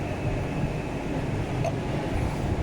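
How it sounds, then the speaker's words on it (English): A long train rolls through a station, a steady broadband rumble holding level and close from start to finish, with a brief metallic squeal partway through. "A long train."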